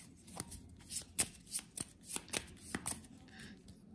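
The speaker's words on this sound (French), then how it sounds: "je vais mélanger mes 3 cartes." A small hand of three cards shuffled at a table during a board game, a quick series of soft riffling slaps and flicks, close and quiet with no talk.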